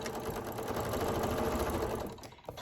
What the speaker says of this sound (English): And then I'll start sewing on here again.